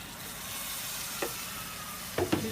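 Water goes into a hot pan of sizzling goat trotter spice masala with coriander, giving a steady loud frying hiss broken by a few soft clinks and stirring scrapes.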